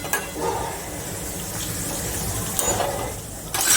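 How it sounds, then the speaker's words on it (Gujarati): Cashew pieces and bitter gourd deep fry in hot oil for kaju karela, with a steady close sizzle and bubbling throughout, joined by occasional light stirring scrapes and clinks against the pan. "આપણે આછા ગુલાબી જેવા થાય એવી રીતે આપણે ડીપ ફ્રાય કરી લેવાનું છે."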